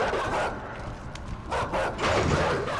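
Dogs barking in the video game Inside, a few muffled barks and yips over a dense rumbling game soundscape, moderately close.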